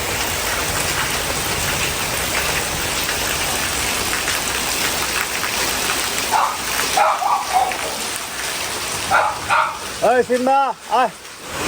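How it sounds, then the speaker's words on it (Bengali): Heavy rain pours down steadily as a dense, continuous hiss, close and loud, with faint voices and a few brief higher sounds breaking through near the end. "ঝুলদারে বৃষ্টি হচ্ছে"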